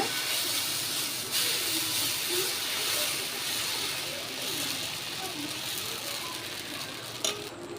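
Oil sizzling and hissing on a hot stone dosa pan, a steady, broad frying hiss that runs throughout with faint scraping and a brief clank near the end, no voice heard.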